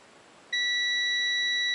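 A multimeter gives a steady continuity beep on the starter wiring of a 1965 Honda CB160 motorcycle. The tone starts abruptly after a quiet half second and holds clear and loud to the end.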